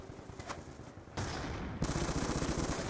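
Gunfire in a shooter video game: bursts of rapid automatic fire that swell louder in stages, from scattered shots to a dense, sustained fusillade.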